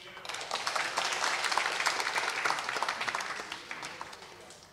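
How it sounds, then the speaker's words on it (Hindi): Audience applause for Rumi Jafri at a ghazal and poetry evening, a sustained burst of many hands clapping that swells and slowly fades. "रूमी जाफरी के लिए प्लीज तालियां।"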